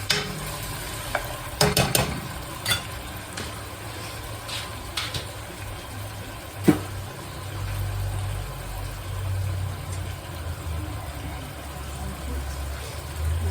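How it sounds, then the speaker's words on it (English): Spice paste for chikar cholay stirred in a pan on low heat, a steady soft sizzle with scraping strokes of a utensil and an occasional sharp clink, close and continuous. "So stirring this."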